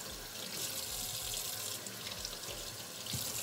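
Warm water runs steadily from a tap into a sink while a wig is being washed, a close, even gush of flow that lasts the whole moment with no talking.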